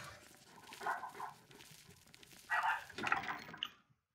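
Dog in the Oblivion video game, a couple of muffled barks and growls heard at moderate distance, with a faint watery drip in the background before the sound cuts off.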